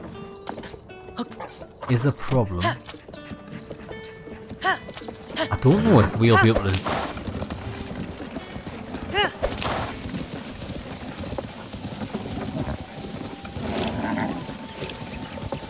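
Horse hooves gallop in The Legend of Zelda: Tears of the Kingdom, a rolling clip-clop rhythm with an occasional snort or whinny, under someone talking through most of the stretch.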